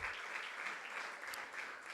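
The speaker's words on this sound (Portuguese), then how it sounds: "Aplauda o Senhor bem forte, irmãos." A church congregation claps steadily throughout a women-led worship service, a dense, even wash of many hands at close range with no pauses.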